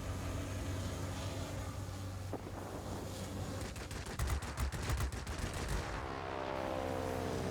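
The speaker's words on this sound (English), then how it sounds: "you actually have some pretty decent range with this cannon" A plane's cannon fires in a rapid rhythmic burst of thudding shots over a constant roar of engine and wind in World of Warplanes, the volley lasting a couple of seconds mid-stretch.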